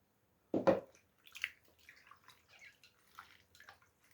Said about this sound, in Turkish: Ve patateslerimizi içine ekliyoruz.